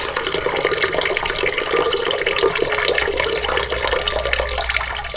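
A toilet tank refills with water after a new float is installed, giving a close, continuous rushing and splashing hiss that stays loud and steady throughout.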